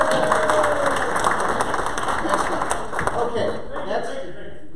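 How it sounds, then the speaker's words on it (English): An audience at a church comedy and couples night applauds with scattered clapping and some chatter, the applause gradually thinning and fading toward the end. "Let's give a round of applause."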